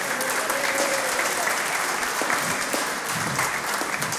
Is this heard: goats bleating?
no